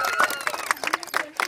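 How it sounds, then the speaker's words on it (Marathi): Children in a Z. P. School classroom break into clapping after a quick classroom game, a loose burst of uneven claps and excited voices mixed together. "सर्वांनी टाळ्या वाजवा."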